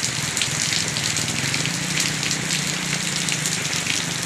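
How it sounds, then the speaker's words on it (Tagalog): Heavy rain pours down outdoors in a steady, dense hiss of drops and splashing water, loud and unbroken, with no voices. "at inabot na ako ng malakas na ulan."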